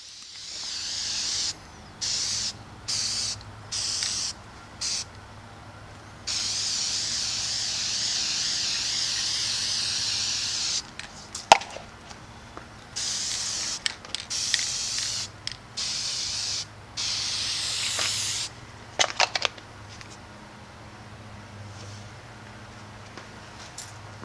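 Aerosol coating sprayed onto a guitar body through a stencil in light back-and-forth passes, heard as a string of close, steady hissing bursts, several short and some sustained, separated by brief pauses.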